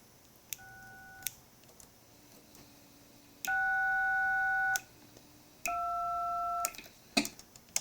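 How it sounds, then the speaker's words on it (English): Radio DTMF button tones: three separate dual-tone beeps, each held for about a second, ring out clearly against a faint background hum with no voices. "You can check each one of your DTMF tones."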